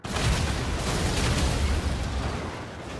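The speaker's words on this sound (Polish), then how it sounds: "Już słyszę wybuchy w oddali." Dense, continuous rumbling blasts of distant explosions in a video game fill the whole stretch, deep booms rolling together with no pauses, faintly tapering toward the end.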